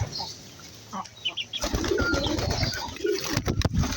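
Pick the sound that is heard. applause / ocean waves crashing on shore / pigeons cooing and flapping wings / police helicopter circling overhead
pigeons cooing and flapping wings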